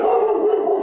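A dog gives a sustained howling bark, one steady drawn-out cry that is loud and fairly close, heard alone without speech.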